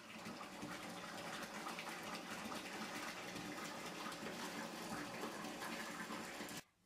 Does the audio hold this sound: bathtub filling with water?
yes